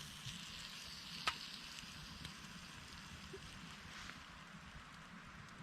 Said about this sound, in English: started sizzling already